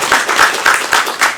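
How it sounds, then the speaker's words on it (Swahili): An audience at a community meeting in Monduli claps together, a short burst of rhythmic applause with repeated pulses, close and fairly loud. "tuwapigie makofi"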